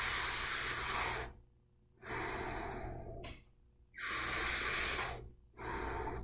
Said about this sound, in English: act like you're breathing through a straw, drawing in a very slow breath